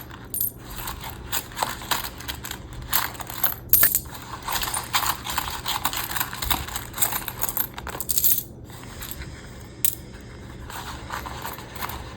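Coins clink and jingle while cash is sorted into envelopes, with light metallic rattles and drops repeating irregularly, fairly faint and close.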